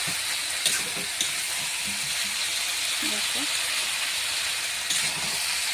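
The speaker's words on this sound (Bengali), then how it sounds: "সব মশলা দিয়ে আলু সয়াবিনটাকে এবার কষছি।" Potato and soybean chunks cooking down with spices in a hot pan give a steady broad sizzle and hiss throughout, with a few soft clicks of stirring and faint background voices.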